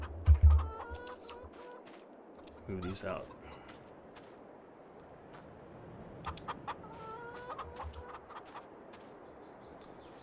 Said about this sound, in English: I do have some chickens down here